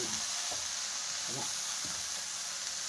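Drumstick leaves sautéing in a pan for a greens kootu, giving a steady, fairly quiet hiss of frying with a few faint stirring scrapes.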